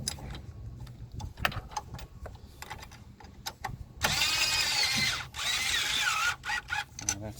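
A power tool whirs in a sustained loud burst while tightening the battery on a 2003 Toyota Avalon 3.0 L V6, after a run of sharp metallic clicks and taps nearby.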